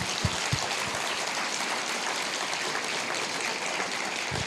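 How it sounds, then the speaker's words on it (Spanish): A church congregation applauds together, a steady, dense wash of clapping filling the room from start to finish, with a few louder individual claps standing out near the beginning. "Dele un aplauso al Señor, ¿verdad?"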